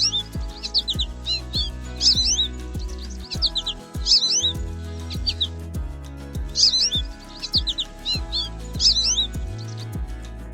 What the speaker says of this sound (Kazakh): Торғай.